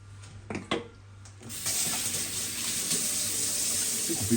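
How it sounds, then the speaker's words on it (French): Kitchen tap water runs steadily into a sink while hands are rinsed during home cooking, opening with a few clatters, then a continuous loud splashing rush of water at close range. "Bien rincer un peu mon main."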